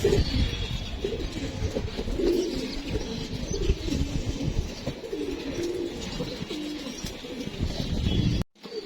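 Racing pigeons coo in a steady, layered chorus close by, soft repeated low calls overlapping with faint chirps and background rustle, ending in a brief drop to near silence.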